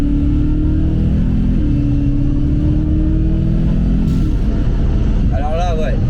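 A supercharged BMW M3 E92 engine revs on a dyno with a loud, close, continuous roar. Its pitch climbs, dips briefly, then rises again, and a voice can be heard under the engine noise.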